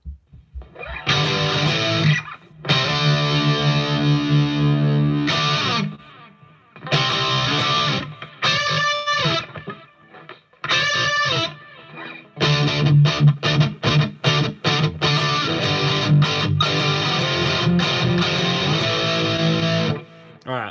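Heavily distorted electric guitar through a Headrush amp-modeling rig plays chords and riffs in bursts, with light delay repeats trailing after the notes and pauses between phrases.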